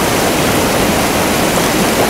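A river in Patagonia rushes with a loud, dense and unbroken roar of flowing water, close by and steady throughout, with no other sounds.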